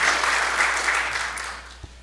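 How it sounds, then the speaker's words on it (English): Audience applause at a manufacturing industry briefing, a steady wash of many hands clapping that holds evenly and then tapers slightly toward the end, with no voices over it. "Let's give him another round of applause"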